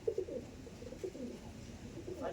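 A male and female Andhra pigeon give a few low, throaty coos nearby, soft and rhythmic, with light background noise.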